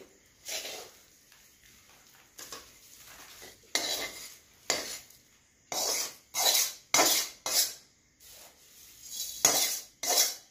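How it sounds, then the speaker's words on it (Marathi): Diwali chivda snack being tossed and mixed in a pan, with repeated scraping, rattling strokes of a spoon against metal coming in bursts, loud and close, with no talking. "आणि त्याला आपण व्यवस्थित मिक्स करून घ्यायचं आहे"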